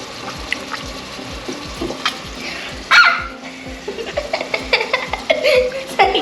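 Tomatoes crushed by hand for a homemade wood-fired pizza sauce give wet squelching and splashing, with a sharper burst midway, amid background chatter, a barking dog and giggling.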